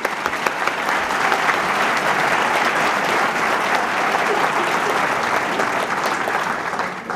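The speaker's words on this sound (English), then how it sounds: "let's have a round of applause for the 5 finalists" Sustained audience applause at the 2013 Golden Apple Awards, honoring five teacher finalists; dense, steady clapping fills the hall at full volume for the whole stretch with no break.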